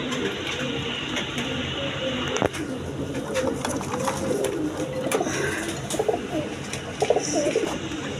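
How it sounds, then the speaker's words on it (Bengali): Giribaz high-flying pigeons, a pair kept for sale, coo steadily and closely throughout, soft rolling calls repeating over a constant background hum, with someone talking over them. "এক পেয়ার আপনার হাই ফ্লাইং গিরিবাস কবুতর আছে"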